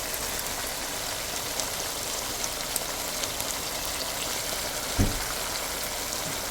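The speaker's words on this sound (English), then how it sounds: "So now it's started to fry up." Beef, garlic, onion and ginger frying in a pan for vegetable beef lo mein give a steady, close, rain-like sizzling hiss with a single soft thump near the end and no talking.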